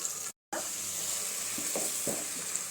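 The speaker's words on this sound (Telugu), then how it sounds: "చల్లం వెల్లుల్లి పేస్ట్ వేసుకున్నాం కదండి ఇది వచ్చేసి పచ్చివాసన పోయే వరకు మనం ఫ్రై చేసుకోవాలి" Garlic paste frying in hot oil, a steady close sizzle running throughout with a few soft stirring scrapes and one brief dropout near the start.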